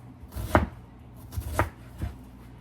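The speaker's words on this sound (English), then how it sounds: "I'm just gonna chop it down." A knife chops bell pepper and onion on a cutting board. Three distinct, sharp thuds land at uneven intervals, close and clear with no talking.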